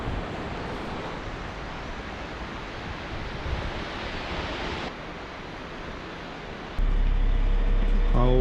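Ocean waves break against stones along the shore at Cádiz in a steady, loud wash of surf, with a shift in the roar near the end.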